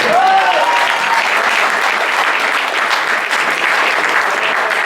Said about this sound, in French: On peut applaudir Besançon.